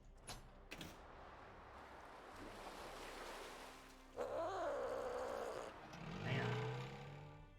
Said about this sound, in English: Yeah, it makes a cat noise.